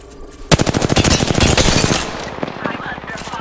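Rapid automatic gunfire in a video game battle, a loud burst of closely spaced shots lasting over a second, then scattered single shots and a steady combat background.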